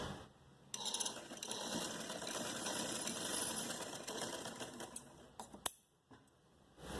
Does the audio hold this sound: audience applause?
no